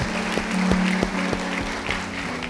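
A church congregation claps during worship, a steady patter of hands with a low sustained tone beneath and a few sharper claps standing out.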